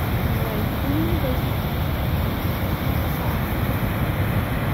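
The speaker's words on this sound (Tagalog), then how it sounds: "naririnig nyo guys yung sound ng tubig." Steady rushing water from a river along a jogging trail fills the clip, loud and broadband, with wind noise buffeting the microphone throughout.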